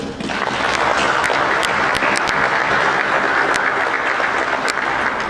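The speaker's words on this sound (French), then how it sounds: "cet applaudissement marque aussi la fin d'une semaine de réflexion intense" A large audience claps steadily and loudly, a dense continuous wash of applause lasting the whole stretch, at the close of a special session on AI and digital applications for the city.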